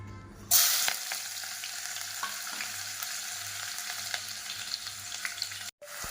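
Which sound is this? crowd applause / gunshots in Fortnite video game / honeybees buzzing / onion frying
onion frying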